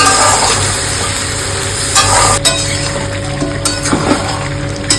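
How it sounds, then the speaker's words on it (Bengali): Large prawns frying in a hot pan, a loud, close and steady sizzle with a few sharp stirring clatters, heard alone. "চিংড়ি মাছগুলো ভেজে নেবো"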